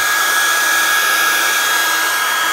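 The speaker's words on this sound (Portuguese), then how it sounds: "Então vou fornecer energia agora através de um secador de cabelo" A hair dryer blows hot air onto a physics heat demonstration apparatus with a piston, giving a loud, close, steady whirring rush that runs alone without any talk.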